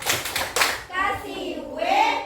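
Schoolchildren in a classroom lesson do a rhythmic clapping chant, a quick burst of claps followed by young voices chanting the letters together loudly.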